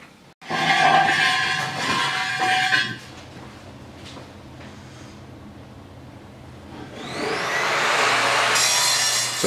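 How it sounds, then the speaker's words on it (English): A metal-cutting chop saw bites into solid steel, a loud close grinding screech lasting a few seconds, then a quieter spin-down and a second rising whine as the blade runs again. "So this is a metal cutting chop saw"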